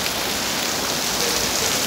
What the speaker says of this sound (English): Right now I'm stuck in the rain.